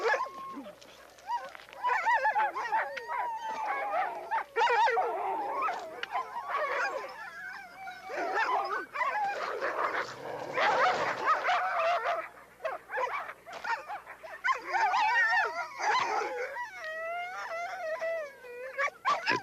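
Chained sled dogs in the Arctic near Churchill bark, yelp, whine and howl as a migrating polar bear approaches, forming a continuous layered chorus of many dogs, some close and some farther off.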